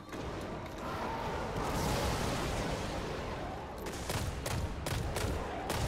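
Rapid gunfire from a weapon in the video game Destiny, a dense, steady burst of shots followed by a few sharper separate bangs near the end.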